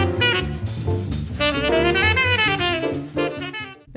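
A recorded jazz solo plays in a short excerpt, a fluid saxophone line over a full band accompaniment that stays loud and continuous for about four seconds.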